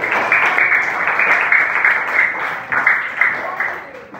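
Pupils in a Year 5 Islamic education classroom clap together for classmates, a close, brisk burst of applause lasting a few seconds with a teacher's voice over it.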